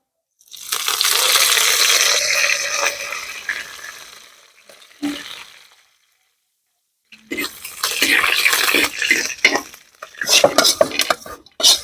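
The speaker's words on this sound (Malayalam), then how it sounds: "ഇപ്പൊ ഏകദേശം എല്ലാം നമ്മൾ മിക്സ് ചെയ്തിട്ടുണ്ട്" Liver roast with curry leaves being stirred and mixed in a pan: a spoon scrapes and clatters against the metal in long rasping strokes, pauses briefly, then returns with choppier clinks and scrapes, close and fairly loud.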